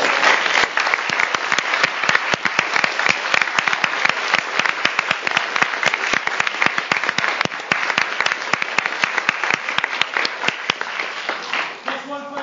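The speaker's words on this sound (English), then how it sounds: "we have one more round of applause." Sustained applause from an audience after a talk at CIT, dense and steady hand clapping that continues for several seconds before tapering off as a voice begins speaking at the end.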